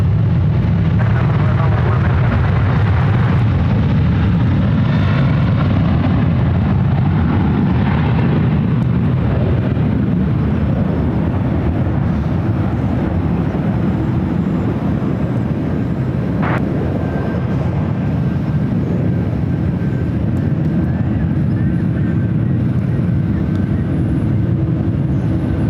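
Jet engines from a China Airlines 777 freighter and other airliners at San Francisco airport, a loud steady roar that swells and holds throughout, with a faint thin whine near the end and no clear talk over it.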